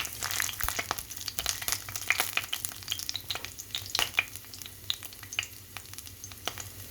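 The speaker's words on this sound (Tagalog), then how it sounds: "Igisa na natin guys ang ating garlic, ay ang ating luya guys." Garlic and ginger sautéing in a pan, a steady close sizzle broken by frequent sharp scrapes and stirring clicks, with no talking.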